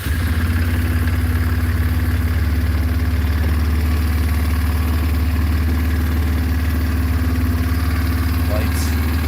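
A carbureted engine, choked and in neutral, runs at a steady low idle in a garage, a constant loud rumble throughout with a faint brief click near the end.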